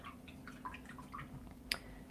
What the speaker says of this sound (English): Now I'm going to put this brush in the water.